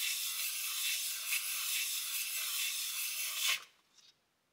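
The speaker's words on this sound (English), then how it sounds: "Sandpaper on a piece of glass, that's been fine for decades, and for these, it's good enough." Carburetor part for a lathe rubbed flat on sandpaper laid over glass: steady close rasping strokes for about three and a half seconds, then a short scrape and quiet.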